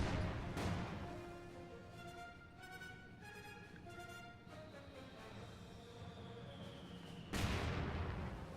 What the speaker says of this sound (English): SU-76 throws a barrage at the house.